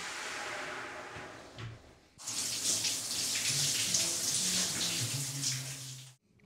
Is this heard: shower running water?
yes